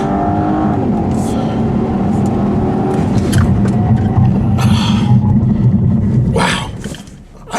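A 2015 Volvo V60 T6 accelerates hard from a standstill toward 60 mph, its engine droning loud and steady from inside the cabin with faint voices, then easing off near the end.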